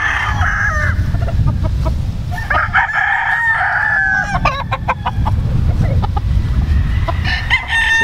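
Gamefowl roosters crow repeatedly over a crowd of clucking chickens on a Missouri game farm, loud and close, with the flock's calls overlapping throughout.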